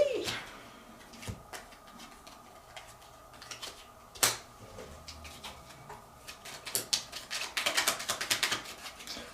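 Tarot cards are riffled and flicked in scattered soft clicks, then a quicker, denser run of crisp shuffling snaps near the end, close and quiet.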